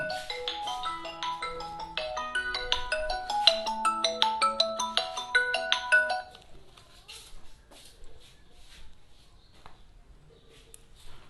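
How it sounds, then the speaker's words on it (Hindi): A mobile phone ringtone announcing an incoming call, a bright repeating electronic melody of rapid tones played loudly for about six seconds, then stopping, leaving faint room noise and soft voices. "एक मिनट, फोन आ रहा है पापा का।"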